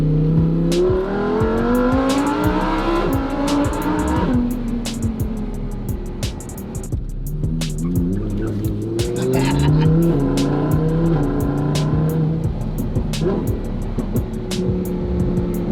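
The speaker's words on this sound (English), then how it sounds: "The sound is great where the exhaust exits." A sports car engine revs and shifts through gears while driving, exhaust note rising and falling loudly, with tire noise and a voice talking over it.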